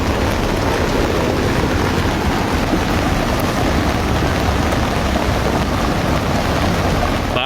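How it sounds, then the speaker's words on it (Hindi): Heavy monsoon rain in Samba district, Jammu and Kashmir, a dense, loud, unbroken roar of downpour lasting the whole stretch, with no voices over it. "जम्मू कश्मीर के सांबा जिले में भी भारी बारिश का कहर देखने को मिल रहा है।"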